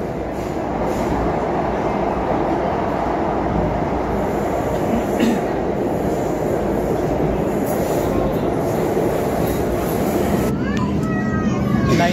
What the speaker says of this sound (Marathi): वळण घेत असताना पण मेट्रो दिसते बघा